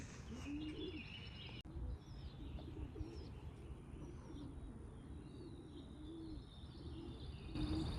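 Soft cooing pigeon calls repeat over a steady outdoor background hiss, distant and fairly quiet, with no talking, as racing pigeons are awaited after a 350-mile race.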